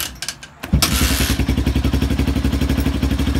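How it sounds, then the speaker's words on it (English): A dirt bike engine cranks over with a brief clatter, catches and settles into a steady, loud idle, its regular chugging pulses close and continuous with no talk. "I'll crank it and let it run, let it idle for a minute."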